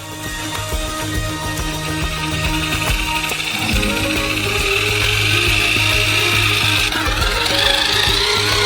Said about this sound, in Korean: 이 모든 것을 거대한 믹서기로 섞어주세요.